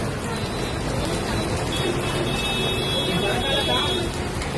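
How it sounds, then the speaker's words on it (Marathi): Heavy, continuous rain pours during a Ganesh immersion procession in Panvel, a dense steady hiss filling the whole clip with voices audible beneath it. "एवढा पाऊस अजून ऐकायला मागत नाही. मागासपासून झालाय 1 तास कंटिन्यू पडतोय."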